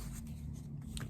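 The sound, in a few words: sanding the edges of glued leather pieces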